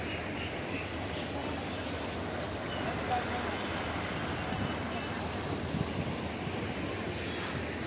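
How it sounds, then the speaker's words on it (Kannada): The Ganges river flows at Rishikesh with a steady, dense rush of water that fills the whole scene at an even loudness, with a faint breeze on top and no talking. "ನೋಡಿ, ಇಲ್ಲಿ ಭವ್ಯವಾಗಿ ಗಂಗಾ ನದಿ ಹರಿತಾ ಇದ್ದಾರೆ."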